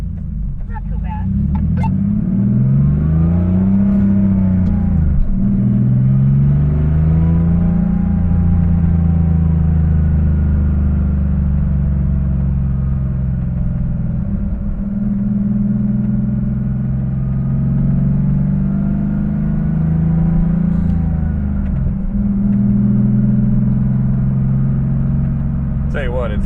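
A 1985 Porsche 911 3.2 Carrera with a Fabspeed muffler delete drones loudly and close throughout, its engine note swelling and sagging with the revs while people talk over it.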